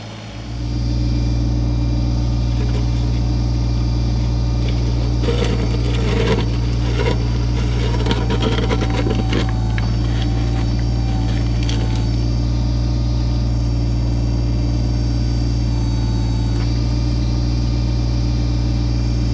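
A Kubota BX25D subcompact tractor's engine runs at a steady, loud drone while it digs, with a busier stretch of clanking and scraping through the middle and no talking.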